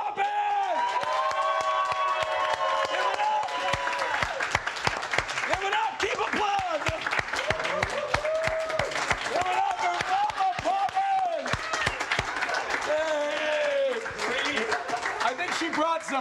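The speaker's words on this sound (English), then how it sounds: "the big raucous round of applause for Mama Poppin'!" A raucous crowd at a comedy roast applauds loudly, sharp dense clapping mixed with cheers and whoops, while voices talk and shout over it almost the whole time.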